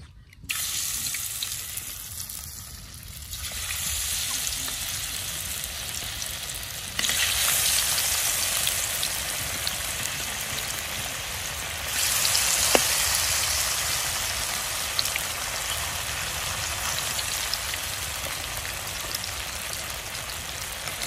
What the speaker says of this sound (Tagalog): So kumukulo na ating mantika, sasalang na natin ating tokwa.